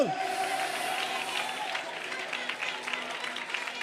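Steady applause from a church congregation during a Malayalam Christian sermon, a dense, even wash of clapping that holds for the whole stretch after a brief opening tone.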